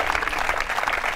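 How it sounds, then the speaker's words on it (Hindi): A college audience at a quiz show event claps to cheer on dancers before their performance, a dense, steady burst of many hands clapping with no voices. "जोरदार तालियां बजाइए ताकि उनका उत्साहवर्धन हो"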